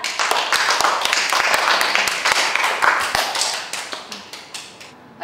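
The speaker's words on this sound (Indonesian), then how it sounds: "Oke, tepuk tangan." A group claps together at the end of a discussion on placing special-needs students in inclusive schools: brisk, fairly close applause from many hands that thins out and fades over a few seconds.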